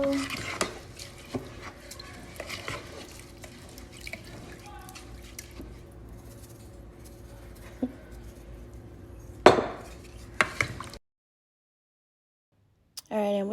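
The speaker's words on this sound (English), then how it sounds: "A little bit of salt here to give it some flavor. And I'm going to stir it around." Curry chicken with salt stirred in a pot: a spoon scrapes and clinks against the metal in an uneven, close rhythm, with a few sharper knocks and a voice speaking now and then.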